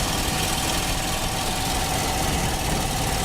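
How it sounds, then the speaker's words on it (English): Engine of a partly disassembled Dodge Ramcharger droning steadily at high revs as the truck loses speed climbing a hill, a continuous loud, rough mechanical roar with a knocking edge and no talk. "Oh, we're losing speed, but not losing RPM."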